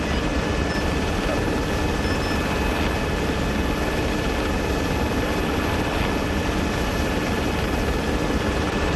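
A military helicopter in the video game Arma 3 drones loudly and constantly with steady rotor and turbine noise, filling the whole span with no breaks.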